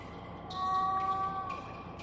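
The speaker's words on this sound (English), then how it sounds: "Sounds like a kitty cat." A cat meows from behind a basement wall in the video game The Last Door, a single drawn-out muffled cry over a low ambient hum.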